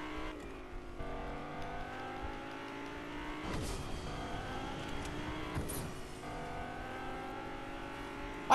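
A fast car in a video game chase, engine droning continuously with shifting pitch as it speeds along, mid-level and steady, with a brief louder thump at the end.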